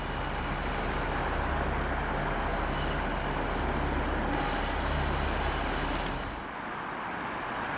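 A long-distance train heading to Zurich rumbles steadily at a German station platform, a low continuous rolling drone with a faint high tone, easing off near the end.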